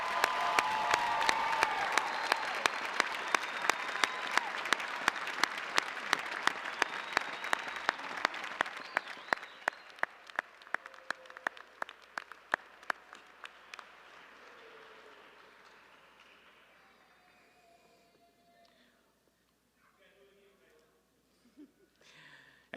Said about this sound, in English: Why don't you join me in one more round of applause for these outstanding graduates today.